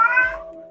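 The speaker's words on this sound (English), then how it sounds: "that sounds like a heat cat." A single short, loud meow from a female cat in heat, close by, sliding down in pitch and fading out quickly.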